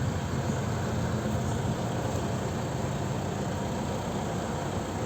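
A TVS Duramax 225cc motorcycle engine idles steadily, a dense continuous rumble with a noisy hiss layered on top, holding even and unbroken throughout with no voices.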